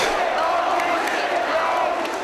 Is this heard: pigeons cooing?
no